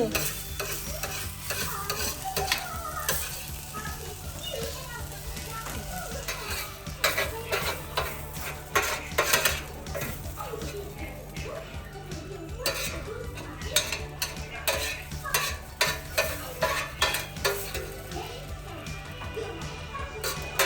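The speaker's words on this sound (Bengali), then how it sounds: "পেঁয়াজ দি যখন জুকিনি রান্না হচ্ছে" Zucchini cooks with onion in a pan with a continuous soft sizzle, broken up by frequent scraping and clinking stirs from a utensil. The sound stays close and fairly quiet.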